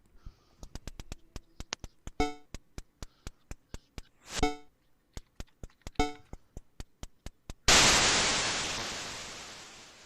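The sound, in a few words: video game jumping sound effect, FM synthesis white noise, CoCo Pi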